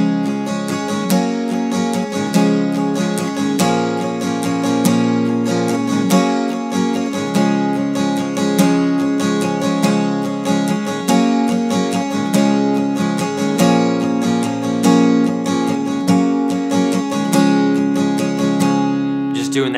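Acoustic guitar strumming the intro of a song, steady rhythmic chords played loud and close with no voices over it.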